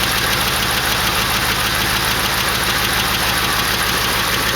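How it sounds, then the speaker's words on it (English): A 1968 AMX engine idles roughly with a misfire and a hard-hitting lifter, a loud, close, rhythmic ticking knock over a constant mechanical drone. "But I can still tell the motor's missing. That lifter's hitting pretty hard."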